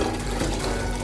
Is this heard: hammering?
no